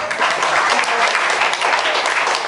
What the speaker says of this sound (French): On peut l'applaudir pour ça.